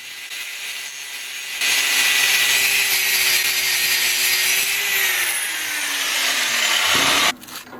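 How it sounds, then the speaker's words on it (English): An angle grinder grinds down the high spots on a carved scarab rock, a loud, steady, close abrasive whine that jumps in level after a quieter start, then holds with slight pitch shifts before cutting off. "Now I switched over to an angle grinder, and we'll just grind down some of the high spots to make sanding go faster."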